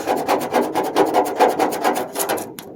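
Cloth rubbing adhesive remover and glue off the hood of a 1995 Mercedes SL500 AMG, quick repeated back-and-forth scrubbing strokes close up, about a dozen in under three seconds.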